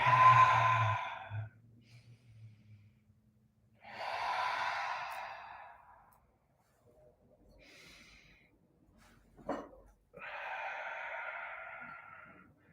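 Slow deep breaths during an all-levels yoga class, several long airy inhales and exhales spaced a few seconds apart, close and fairly soft with quiet pauses between them.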